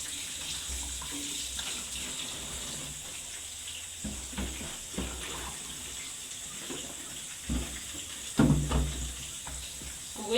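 Tap water running steadily over smoked fish being washed, a continuous hiss with small clatters and knocks of handling near the end, no talk.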